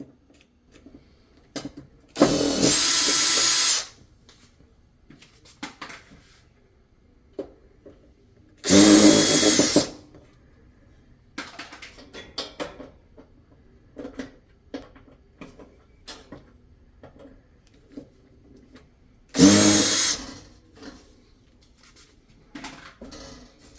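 Power drill backing screws out of the side panels of a Samsung range, three loud, steady whirring bursts of a second or so each, separated by quieter clinks and handling noises, with no talking.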